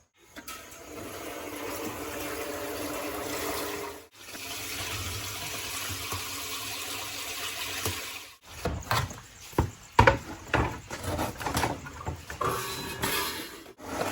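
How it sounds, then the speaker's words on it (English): Plain water pours steadily into a washing machine tub, a continuous rushing fill that cuts off briefly, resumes, then gives way to intermittent splashing and clunks. "we're going to fill the washing machine up about 3/4 of the way with just plain old water"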